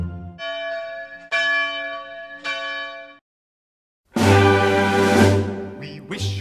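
Church bells ring out in a Christmas film scene, two clear resonant strikes with ringing decay, a brief silence, then a louder, fuller peal of several bells clanging together.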